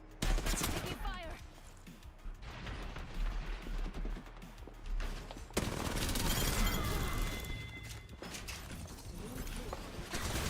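Dense rapid gunfire from an Overwatch match fills the clip, bursts of shots and automatic fire overlapping continuously, loud and busy, with a player talking over it.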